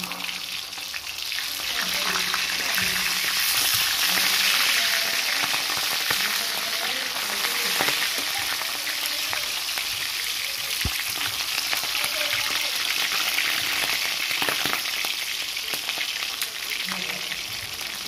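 Food frying in a pan while cooking a simple Filipino ulam, a dense steady sizzle and crackle that holds throughout with faint background noise from outside.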